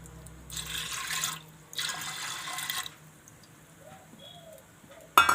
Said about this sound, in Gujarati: પછી આપણે એમાં થોડુંક પાણી નાખશું.